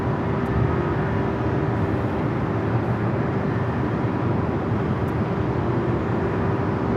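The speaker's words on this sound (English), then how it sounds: "All right, Air Mexico heading to Mexico City. This one is 787-8 Dreamliner." An Air Mexico Boeing 787-8 Dreamliner at LAX makes a distant, continuous jet roar, a broad steady rumble that holds evenly throughout with no voices.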